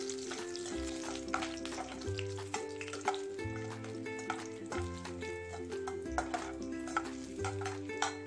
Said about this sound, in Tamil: ரைசன்ஸ்லாம் கொஞ்சம் வறுத்து எடுத்துக்கலாம்